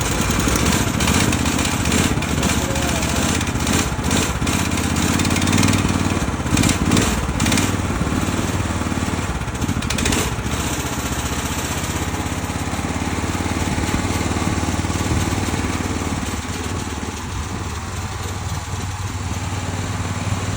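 A ROKAWALKER walk-behind machine's small engine runs loud and steady after starting, a continuous buzzing drone with slight rises and dips in revs and no talking.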